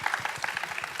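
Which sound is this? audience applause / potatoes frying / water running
audience applause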